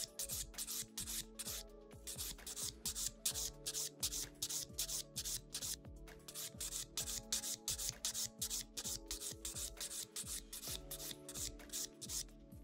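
A file rubbing rhythmically across an acrylic nail to bevel it toward the tip, quick repeated rasping strokes, close and faint, steady for the whole stretch with no talk.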